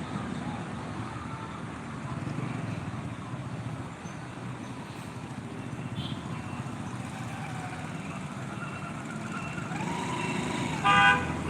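Cars and buses pass along a road near a railway gate, a steady wash of engine and tyre noise that swells toward the end, where a brief horn toot sounds.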